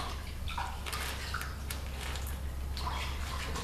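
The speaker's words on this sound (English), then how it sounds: "You rinse thoroughly in warm water." Warm tap water runs steadily as hands are rinsed during hygiene prep for dairy milk processing in Kenya, a constant close splashing hiss with small drips and splatters breaking through.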